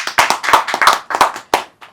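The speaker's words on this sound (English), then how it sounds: "let's give a big clap to all the kids for being honest." A few people clap for children at the end of a podcast: a close, loud, uneven burst of claps lasting about two seconds, then tapering off, with no talk.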